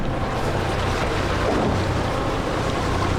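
A sailboat motoring on its engines through a cut with strong current and little wind gives a steady, dense drone blended with rushing water and wind noise, continuous for the whole stretch with no voices.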